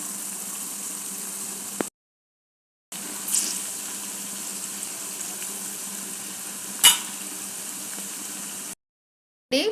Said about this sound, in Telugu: ఇవి కొంచెం బాగా వేగాలి బాగా ఫ్రై అవుతే సూపర్ ఉంటుంది